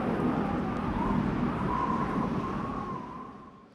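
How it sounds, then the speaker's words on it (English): Dry desert wind from the Overwatch McCree Deadeye ultimate sound design in a video game, a steady broadband whooshing rush with a faint whistling tone drifting through it, loud throughout and easing off toward the end, with no speech. "a dry desert wind"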